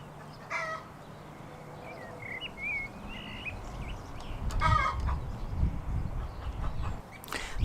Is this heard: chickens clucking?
yes